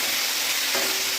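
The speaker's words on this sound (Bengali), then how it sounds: "আমরা কই মাছগুলো ভেজে নেব।" Koi fish frying in hot oil during preparation of a Bengali koi fish curry, a steady close crackling sizzle filling the short stretch with no talking.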